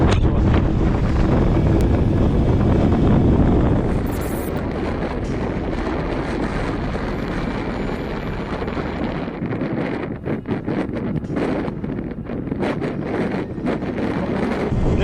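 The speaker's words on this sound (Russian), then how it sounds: "Ветер уже конкретно штормовой." Strong, gusty storm wind during a mountain blizzard roars into the microphone, heaviest at the start, then buffeting in uneven bursts and rushes throughout.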